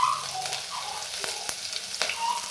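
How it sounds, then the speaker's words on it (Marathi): A paste of garlic and cumin fries in hot oil with mustard seeds, giving a continuous close sizzle with sharp crackles and pops scattered throughout and no talking. "मोहरी छान तडतडू द्यायची आहे आणि त्यानंतर लसूण आणि जिरे याचं वाटण टाकायचं आहे"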